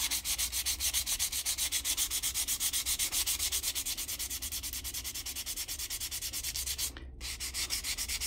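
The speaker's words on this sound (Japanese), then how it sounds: "シコシコシコシコシコシと、いっぱい磨いていただきます。" A wooden cube sanded by hand, fast regular back-and-forth rasping strokes, close and steady with a brief pause near the end, no speech.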